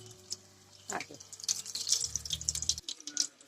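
Bondas made from leftover aloo kurma frying in hot oil, a crackling, bubbling sizzle that swells after a soft start and keeps spattering close by.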